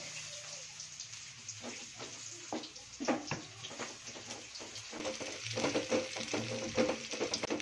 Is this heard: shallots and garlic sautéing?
yes